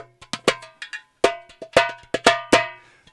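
North African darbuka hand drum from Morocco struck in quick, irregular patterns, bright sharp ringing hits with short decays, some clustered and some spaced, played close and alone.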